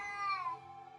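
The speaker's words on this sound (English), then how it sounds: "Why is my cat meowing?" A pet cat gives a single clear, drawn-out meow, close and fairly loud, falling in pitch.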